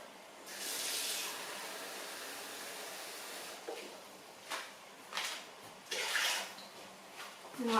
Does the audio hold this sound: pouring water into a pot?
yes